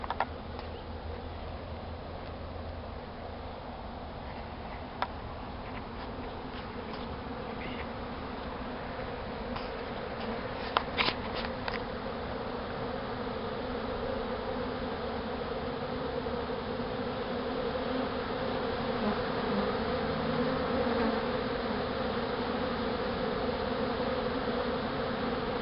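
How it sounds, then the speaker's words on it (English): A dense, steady buzzing of many honeybees swarming out of a hive fills the air, continuous and growing slightly louder, with a few sharper individual buzzes passing close by. "This is the way bees come out of a hive when they're swarming."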